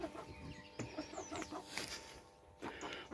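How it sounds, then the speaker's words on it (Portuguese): Chickens on a small farm that also raises pigs cluck in short scattered bursts, fairly close but quiet, with no talk. "As galinhas aí, ó."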